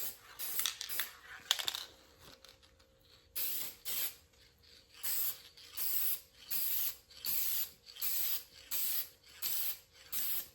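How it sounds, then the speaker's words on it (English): Krylon satin finish spray paint hisses from an aerosol can onto a pedestal mount finished with tile mortar, in a run of short regular bursts after a few clicks and rattles of the can, close and loud with no talking. "I'm going to use Krylon satin finish."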